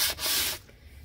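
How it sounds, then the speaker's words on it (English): Sandpaper rubs over bumps on a glitter-coated tumbler in one short, close scratching stroke that fades quickly into quiet. "And you're just sanding like out little bumps."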